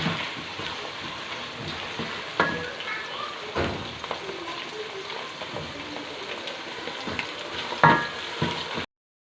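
Browned onions fry with ginger garlic paste for biryani, sizzling and crackling steadily in a hot pan, with a couple of clinks and stirring scrapes along the way.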